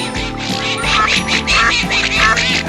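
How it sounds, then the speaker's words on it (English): Cartoon ducks on a pond quack loudly and repeatedly in quick overlapping bursts, close and busy with no talking. "But the ducks weren't very happy about it."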